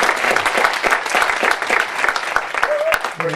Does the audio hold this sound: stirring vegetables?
no